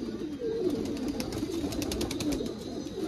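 A domestic pigeon of show quality coos in soft, repeated low rolling calls close by, with faint chirps in the background and no talk.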